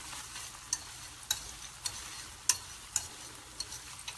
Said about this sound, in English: Now I'm going to give these guys a stir.